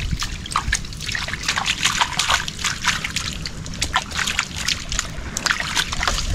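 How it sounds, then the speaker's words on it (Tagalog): Water rushes and splashes in through an opening, a dense, close, continuous gurgling flow with frequent small splatters and no voices over it. "pasok na yung tubig"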